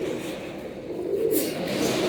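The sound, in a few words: pigeons cooing at Liaquat market pigeon sale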